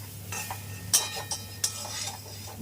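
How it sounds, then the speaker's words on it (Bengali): Sweet mango pickle is stirred in a pan, with a few distinct scraping and clinking strokes of a utensil against the metal over a soft, low sizzle, close and fairly quiet. "এবার এইভাবে পনেরো মিনিট খানি এরকম নাড়াতে হবে"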